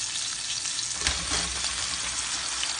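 Rainbow trout sizzles loudly and steadily in a hot pan, a dense crackling hiss with a brief scrape and thump as the fish is flipped partway through.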